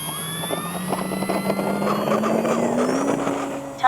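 An FMS 1800mm Ranger electric RC plane flies with its motor whining steadily, the pitch slowly rising and then falling as it passes, with a little wind buffeting and no talk.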